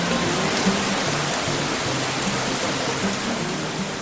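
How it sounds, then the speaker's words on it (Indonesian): Steady broadband rain from clouds in an animated scene, a dense continuous hiss with a low rumble underneath, even and unbroken throughout with no voices. "Awan-awan itu menurunkan hujan."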